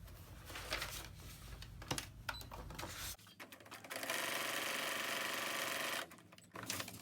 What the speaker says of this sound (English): So I'm going to go ahead and keep on stitching